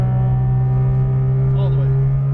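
A Porsche GT2 RS sports car engine drones steadily at full power on a track, a loud sustained low tone heard from inside the car, with a voice talking over it.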